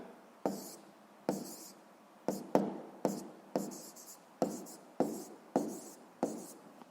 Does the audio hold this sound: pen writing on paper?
yes